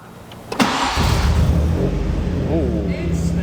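A car engine cranks and catches, starting with no throttle, then settles into a loud, close idle with a rough mechanical hum and faint belt whine.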